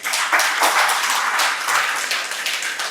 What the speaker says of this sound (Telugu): క్లాప్స్ కొట్టాలి మీరు.